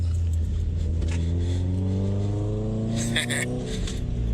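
A car engine with a Tomei exhaust and rotated turbo drones steadily and climbs in pitch as it revs while driving, loud and close from inside the cabin, with a brief higher whine near the end.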